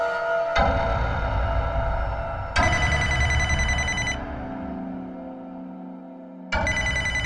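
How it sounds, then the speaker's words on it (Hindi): A telephone rings in long bursts separated by short pauses, loud and close, with no talking. "आपका फोन आ रहा है"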